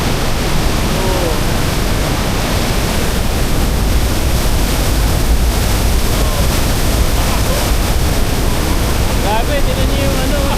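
Takakaw Falls in British Columbia, water crashing down in a loud, constant broadband roar close by, with faint voices talking over it.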